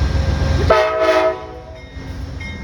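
A train rumbles past up close, its loud horn blaring for a moment before the rolling clatter fades off, with no voices.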